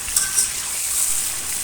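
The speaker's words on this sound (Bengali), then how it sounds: "এখন আমগুলো কষিয়ে নিবে।" Raw mango pieces sautéed in a pan with salt, turmeric, and ground garlic, chili and ginger, giving a soft, steady sizzle and light stirring scrapes, close and alone.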